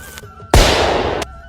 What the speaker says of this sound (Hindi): टिंकू अब देख मेरा रस्सी बम